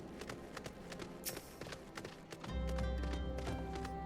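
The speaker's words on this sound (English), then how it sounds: "A backwards horse walk." Horse hoofbeats in Final Fantasy 14 as a mount walks backwards, a steady clip-clop over game music and ambience that swells louder partway through.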